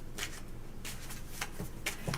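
Tarot cards are shuffled by hand in quick riffling bursts, four or five short crisp flurries of card noise close by, with no talk over them.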